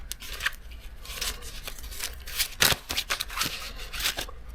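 Tarot cards are shuffled by hand in a quick run of crisp, papery riffling bursts, close and fairly loud, with a few sharper snaps near the middle.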